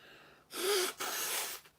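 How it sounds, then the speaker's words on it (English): A single close, breathy sneeze: a sharp intake followed by two quick forceful bursts of air. "I'm going to sneeze again, I feel."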